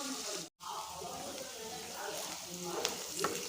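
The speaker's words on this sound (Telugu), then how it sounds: "ఒకసారి కలిపి మళ్ళీ మూత పెట్టి ఒక 5 మినిట్స్ వరకు మళ్ళీ ఫ్రై చేయండి." Sliced ivy gourd fries in a pan with salt, producing a soft, steady sizzle close by that cuts out for a moment and then resumes with slight crackles.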